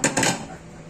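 Plates being taken out and handled in a home kitchen: two or three quick ceramic clinks in rapid succession, close and bright, fading into quiet room tone without talk.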